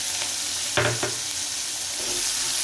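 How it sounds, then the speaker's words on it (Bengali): Whole cumin, dried chilli and sliced onion sizzle in hot oil left over from frying fish, a steady close crackle with a brief burst of stirring clatter partway through. "এবার ওই তেলের মধ্যে দিয়ে দিচ্ছি জিরে, গোটা জিরে, শুকনো লঙ্কা, কোচানো পেঁয়াজ।"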